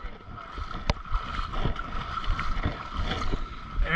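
Feet trek through deep mud on a Spartan obstacle race course in Vernon, New Jersey, making close, wet squelches and sucking splashes as each foot pulls free, with outdoor noise in the background.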